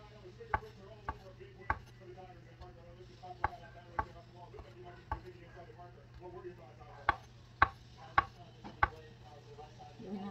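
A knife chops food on a board for a pizzadia in a series of sharp, evenly spaced taps, close and moderately loud over a steady low hum, with no talking.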